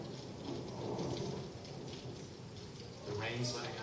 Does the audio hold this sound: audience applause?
no